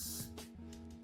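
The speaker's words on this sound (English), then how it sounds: "I'll spray it on my brush." A single short hiss of Got2b glue hairspray sprayed from a can onto a brush, a close, steady aerosol burst lasting about a second.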